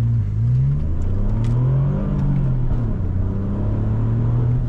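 Engine of a 2006 Alfa Romeo Brera 3.2 JTS Q4 (260 hp) accelerating, a steady droning rumble that climbs in pitch, eases, then pulls again, heard from inside the car with no talk.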